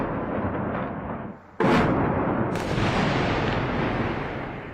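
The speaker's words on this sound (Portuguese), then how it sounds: "Em meio aos escombros, um sobrevivente flagrou outra explosão." An explosion from a Russian bombing raid on Kyiv, recorded amid rubble, bursts in as a loud broadband blast over a continuous roaring rumble, with a second sharp crack about a second later and no talking.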